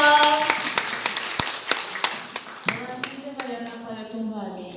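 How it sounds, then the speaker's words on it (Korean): A church congregation at a Korean cell-group flag praise service claps in sparse, rhythmic single claps, with voices talking and singing over them. "박수 주세요."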